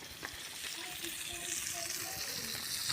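Chicken fries on a clay roof tile, kaul-fry style, with a steady, close sizzle and faint stirring scrapes throughout, and no talk.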